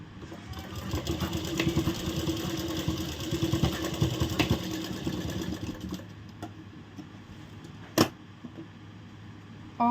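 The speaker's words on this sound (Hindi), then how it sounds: "यहाँ हम सिलाई लगा देंगे ऊपर से।" A sewing machine stitching the back piece of a princess-cut blouse, running in a fast steady rattle for about six seconds, then stopping, followed by a sharp click and a few faint handling noises.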